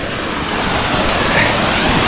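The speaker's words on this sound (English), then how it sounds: "I just wanted to show you the waterfall" A rainforest waterfall in Australia roars as dense, steady broadband rushing water, loud and close, with no voices over it.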